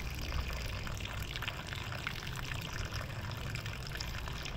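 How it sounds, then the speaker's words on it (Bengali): Water poured into the centre of a bromeliad plant, a steady close-up splashing trickle that stays even throughout, with no talking. "দেখো আমি মিডিলে জল দিচ্ছি, এইভাবে জল দিতে হয়।"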